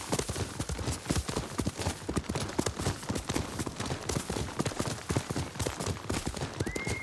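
Horse hooves clip-clop in a steady, rapid gait on a mount in Ghost of Tsushima, loud and close, with a brief whinny-like tone near the end.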